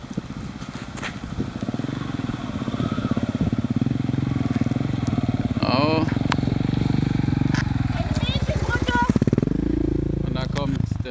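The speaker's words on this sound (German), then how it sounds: "So, da kommt die Anja über die schöne Brücke gefahren" A motorcycle rides across a bridge, its engine droning steadily and close, then shifting pitch and trailing off near the end.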